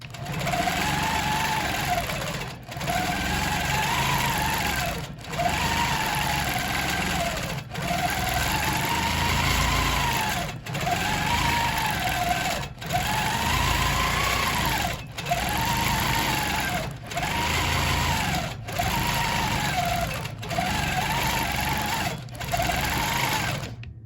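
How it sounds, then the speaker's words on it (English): A sewing machine free-motion quilting swirls runs in repeated bursts of rapid, buzzing stitching, each lasting a couple of seconds and separated by brief pauses, loud and close with no talking. "I'm going to stitch a couple more swirls out just so you can get a feel for it."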